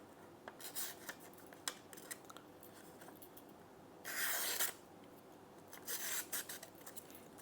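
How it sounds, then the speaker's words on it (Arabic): A Victorinox RangerWood 55 knife blade slicing through paper gives quiet rasping cuts, scattered small scrapes and two longer swishing strokes, close up with no talking. "نجرب الحد في الورق"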